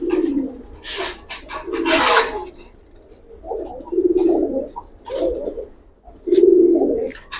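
Pigeons coo in soft, low repeated phrases at close range, mixed with wing flutters and sharper bursts of flapping, with no talk over them.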